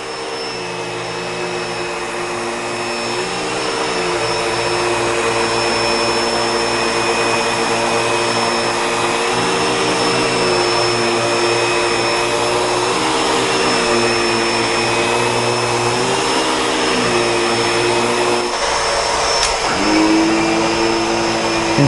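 A Bissell Pet Hair Eraser Turbo Plus vacuum runs over carpet, a loud, steady motor drone with a whining tone that shifts slightly as the head moves back and forth.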